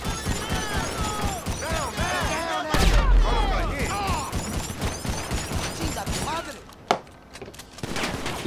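Rapid shotgun fire in Grand Theft Auto V Online, blasting like a machine gun in chaotic bursts of cracks and crashes, mixed with busy game sounds and voices, with a sharp isolated shot near the end.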